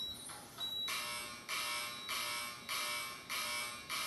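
A Simplex alarm horn sounds a slow march time pattern, loud rasping buzz blasts about half a second long repeating at an even, steady pace with short gaps between, heard alone.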